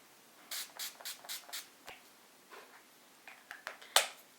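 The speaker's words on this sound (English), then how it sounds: "I like to use Urban Decay's Chill Makeup Setting Spray, and again, this is supposed to be cooling and hydrating." Urban Decay Chill makeup setting spray fires in a run of five quick, close hissing bursts, followed by softer rubbing and tapping noises and one last sharp spritz.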